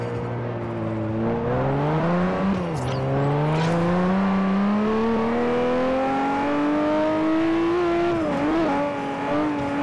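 A Nissan Skyline GT-R in Forza Horizon on street tires, its engine note rising and falling steadily as it slides through an all-wheel drift, with a continuous loud drone and brief revving swells and no talk.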